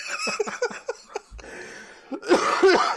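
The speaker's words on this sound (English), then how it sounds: "I'm going to cough my guts up because I am not great." A person coughs in a quick rapid series of short harsh bursts, goes briefly quiet, then lets out a heavier, rougher coughing fit close up.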